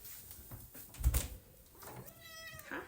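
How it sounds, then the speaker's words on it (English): A pet cat meows close by indoors, a single drawn-out rising and falling cry after a brief soft bump, heard alone without talk. "Cat interruption."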